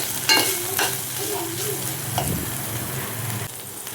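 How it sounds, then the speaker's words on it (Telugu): Corn kernels frying in hot oil give a steady, close sizzle with faint stirring scrapes, loud and continuous, while a voice briefly speaks over it. "కొంచెం సేపు ఆయిల్లో ఫ్రై చేసుకోవాలి."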